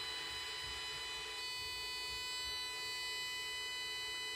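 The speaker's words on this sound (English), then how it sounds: "There we go, we got our 1000 hertz tone" A 1000 hertz test tone received over the air on a WW2 BC-611 handie-talkie radio, a steady, thin electronic tone with harmonics over faint static, continuous and unchanging.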